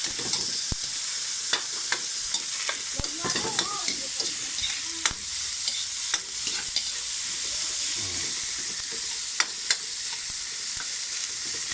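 Tomatoes being crushed and stirred in a frying pan for a Pangasinan dish, a loud continuous sizzle punctuated by repeated sharp scrapes and taps of a utensil against the pan, close up and without speech.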